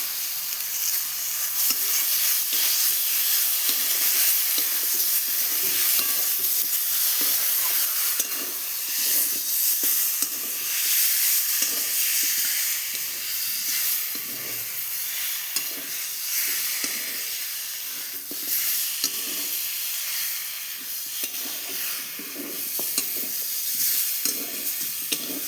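Chicken frying in spiced masala for a home-style chicken kosha, a loud continuous sizzle and hiss with rhythmic stirring scrapes throughout, close up.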